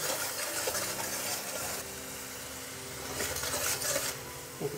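Pabda fish fries gently in a pan with salt over low heat, a soft crackling sizzle mixed with light scraping and clinks of a utensil stirring against the pan, fairly quiet and close.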